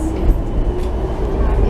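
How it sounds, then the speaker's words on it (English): A Budapest tram on the shared stretch of lines 4 and 6 rolls along with a steady low rumble and rattle, heard close from onboard, continuous and fairly loud with no break. "this half of the line is where they don't separate"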